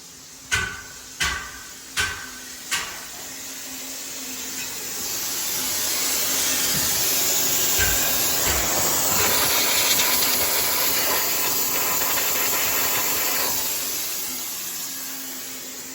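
Compressed air hissing out of a leaking brake diaphragm on a bus tag axle, a steady loud rush lasting many seconds after a few short clicks, over a low engine idle.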